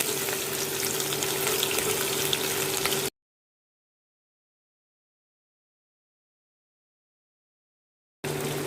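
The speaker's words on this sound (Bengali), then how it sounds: "তেলটা গরম হয়ে গেছে এখন আমি পেঁয়াজ কুচিগুলো দিয়ে দিচ্ছি" Chopped onions sizzle and crackle in hot oil, a steady frying hiss close by that cuts out abruptly for several seconds and then returns.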